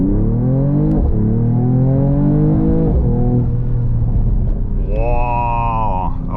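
A 2022 Mercedes-AMG GT 53 4-Door with an inline six-cylinder engine revs hard at a race start, rising engine tones climbing through gears, loud and close from inside the cabin.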